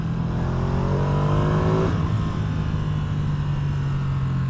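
A Ducati Streetfighter V2 motorcycle engine revs loud and close, a steady buzzing drone that climbs in pitch and then settles back to a sustained roar.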